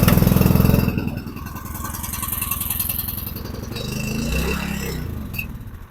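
A portable generator engine is pulled to start, with a loud rough mechanical clatter at first, then a lower uneven running rumble with rattles, close by.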